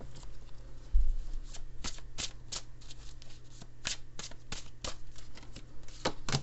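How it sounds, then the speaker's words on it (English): A Chinese-style tarot deck being shuffled and cards drawn by hand, a run of crisp riffling flicks and sharp card snaps at an uneven rhythm, close and fairly quiet with no talking. "let me pull one more card here"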